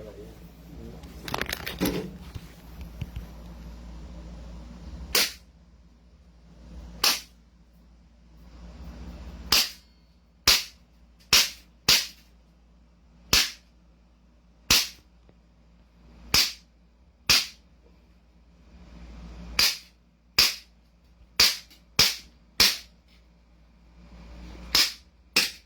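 Single gunshots crack out one after another at a shooting range, spaced a second or two apart, loud and close, with brief talk and handling noise at the start.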